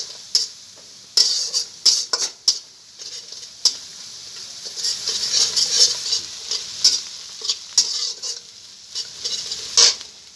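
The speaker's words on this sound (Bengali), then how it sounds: "পেঁয়াজটাকে আমি একটু লাল লাল করে ভেজে নেব।" Onion seasoned with salt and turmeric fries in a pan toward a reddish brown, a soft sizzle punctuated by sharp, intermittent stirring clicks and scrapes of a spatula, close and without talk.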